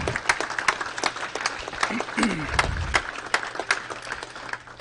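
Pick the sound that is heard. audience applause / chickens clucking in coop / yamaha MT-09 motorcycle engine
audience applause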